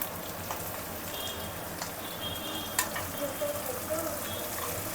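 Masala for mutton biryani fries in oil with salt, giving a steady crackling sizzle close by, punctuated by occasional clinks and scrapes of stirring.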